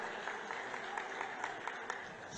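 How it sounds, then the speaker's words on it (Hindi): A rally audience clapping steadily to welcome a legislator, a continuous patter of applause at a moderate distance with no voices over it. "उनके लिए भी जोरदार ताली बजा करके आप स्वागत करो"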